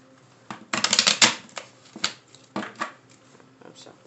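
Several quick bursts of cards being shuffled, crisp riffling rustles in short clusters with pauses between, close and fairly quiet.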